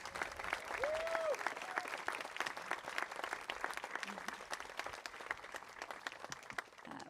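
An audience applauds 8th grade graduates at a school recognition ceremony, a sustained wash of many hands clapping from a crowd, with a brief whistle rising over it early on.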